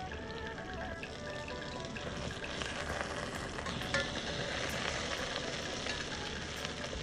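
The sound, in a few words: Mrigel fish pieces frying in a pan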